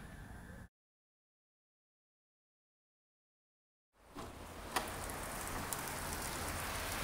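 Rain falls outdoors on a wet day. After a short cut to silence, a steady, full hiss of rain returns, with an occasional sharper drop tapping nearby.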